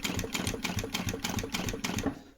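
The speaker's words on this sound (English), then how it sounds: "Just sew round, making sure you get your lines lined up" A sewing machine stitches a leather motorcycle seat cover in quick, rhythmic bursts of light clicking and tapping, fairly quiet and close, with no talking.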